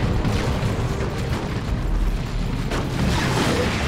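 Twin-linked lascannon fire in the strategy game Dawn of War 2: Retribution, a run of dense, rumbling blasts and booms over continuous battle noise, with a sharper burst near the end.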